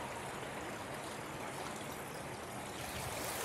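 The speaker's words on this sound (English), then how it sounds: "And that's how it starts. Water from Mount Shasta." A shallow mountain stream at the Mount Shasta headwaters flows in a constant, even rush and gurgle, faint and steady throughout with no other sounds over it.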